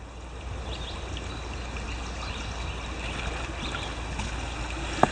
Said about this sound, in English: This is just a great creek.